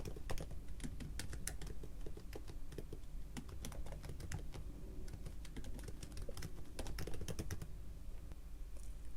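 Steady, irregular keystrokes on a computer keyboard while entering text in Notion, close and fairly quiet, with brief pauses between short runs of typing.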